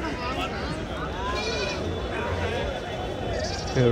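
Several sheep bleat close by at a Tuesday sheep market in Kadiri, over a busy background of murmuring voices and crowd noise.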